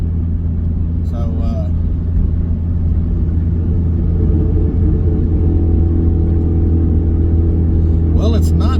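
1988 Honda CRX Si driving at speed near 115 mph on a test drive, a steady loud engine drone and road rumble heard from inside the car, with brief voices over it.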